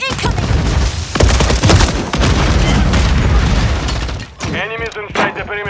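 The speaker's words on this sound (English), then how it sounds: "Stun grenade!" Explosive booms and rapid gunfire from a stun grenade battle in Call of Duty MW3 Zombies, dense and loud throughout, with shouted voices in the last second.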